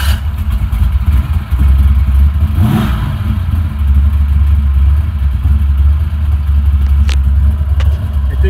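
A 1965 Chevrolet Nova wagon with a 409 engine, warm from recent running, rumbles loudly and steadily, with a brief rev near the start of an otherwise even idle; no one talks.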